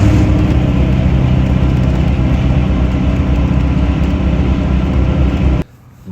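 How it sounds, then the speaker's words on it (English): Loud, steady drone and road rumble of Yokohama Geolandar AT-XD all-terrain tires on a highway, heard from inside a moving truck, constant for several seconds before cutting out abruptly near the end. "they do produce a moderate amount of road noise"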